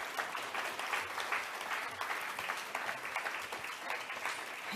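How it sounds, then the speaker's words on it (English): A conference audience applauds a panel at a plastics research and advocacy forum, a steady dense clapping from a medium-sized crowd that carries on throughout. "So please join me in giving a round of applause to this amazing panel."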